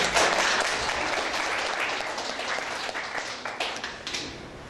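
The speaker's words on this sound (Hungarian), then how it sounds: "Azért a tapsot megérdemelnek" An audience claps loudly for the winners of a school competition, a dense, sustained round of applause that stays strong throughout with individual claps standing out near the end.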